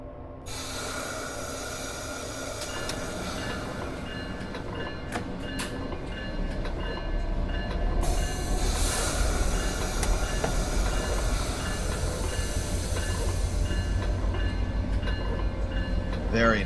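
A MARC Penn Line commuter train hauled by an MP36 locomotive pulls away from a Washington station in a train simulator, a steady low engine drone and rolling rumble that builds gradually over its length.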